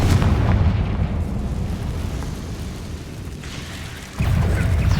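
Bombarda and Confringo spell explosions in the Hogwarts Legacy video game, a loud booming blast with rumbling debris that slowly decays, then a second heavy burst erupting abruptly near the end.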